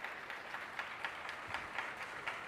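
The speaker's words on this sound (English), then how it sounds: "Can we give a louder round of applause for Sharada Somaya ji" A live audience applauds at a Whitefield talk event, giving a round of clapping for a speaker from the Kudiya tribe; the clapping is faint and distant, a steady patter of hands with soft recurring peaks and no talking.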